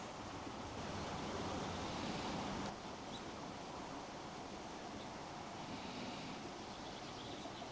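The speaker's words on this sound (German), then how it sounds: "Ein bisschen windig hier." Steady, broad rushing wind buffeting the microphone throughout, a bit stronger at first, with no voices.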